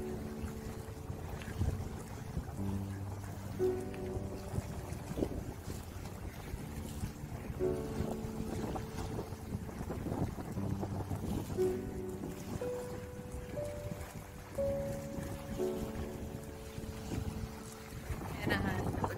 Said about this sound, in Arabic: انا سايباكم بصراحه تستمتعوا بصوت البحر